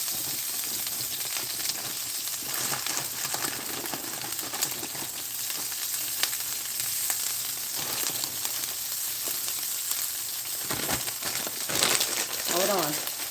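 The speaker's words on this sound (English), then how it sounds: "Let me get my hash browns going real quick. Y'all gonna hear some sizzling" Hash browns sizzle while frying in a pan, giving off a steady crackling hiss close by, with a voice talking over part of it.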